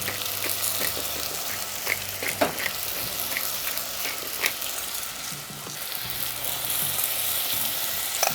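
Ground lamb for moussaka browning in a hot pan, a dense continuous sizzle with occasional spoon scrapes and stirring knocks, close and fairly loud, no talking.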